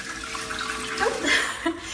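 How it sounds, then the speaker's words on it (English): A HOROW T05 smart toilet flushing on its own, a steady rush of water running for about two seconds at moderate loudness, with no talk over it. "The sensor behind me just sensed that I moved and it automatically flushed the toilet."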